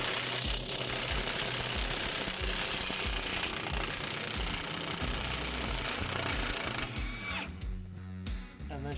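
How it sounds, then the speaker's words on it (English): Power tool loosening a rusty shock bolt with a 21mm wrench and socket on a GMC Sierra front end, a loud continuous rattling hammer that runs nearly throughout and then cuts off near the end. "21mm wrench on the nut and then on the socket on this side"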